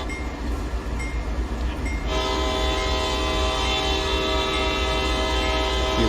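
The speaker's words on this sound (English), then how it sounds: "Few crossings to blow the horn for." A CSX locomotive's horn in Train Sim World 2 on the Sand Patch line blows loud and sustained for crossings, entering over the rumble of the moving train and holding steady to the end.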